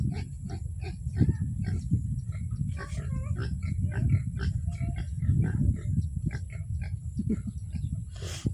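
Pigs on a farm in the countryside give repeated low grunts and snorts at close range, irregular and continuous, with some faint higher squeals and a little background noise.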